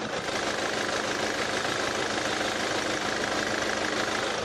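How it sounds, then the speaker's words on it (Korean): A 2017 Kia Sorento's 2.0 engine idles steadily under an open hood, an even, close mechanical hum with a fine rhythmic ticking and no voices. "바로 엔진 소리 한번 들려드릴게요."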